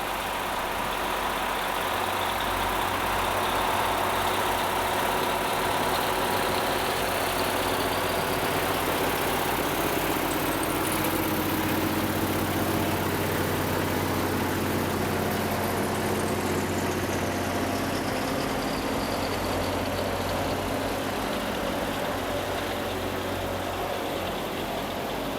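A Loram rail grinder working on the B&LE Girard Branch, a constant loud engine drone with a harsh grinding hiss that swells and fades through the middle, no talking.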